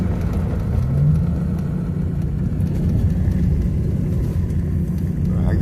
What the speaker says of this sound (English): I gotta drive the car.